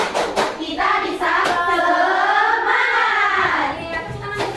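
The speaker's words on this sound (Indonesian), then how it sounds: "kita coba tepuk semangat ya" Classroom students doing a rhythmic spirit clap during a lesson, with steady hand claps under loud group chanting voices throughout.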